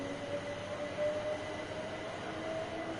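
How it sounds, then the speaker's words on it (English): Train in Train Simulator 3 pulling out of a station, a continuous low rumble with faint tonal whine from the motors, steady and moderately loud with no talk. "that's our train just pulling out"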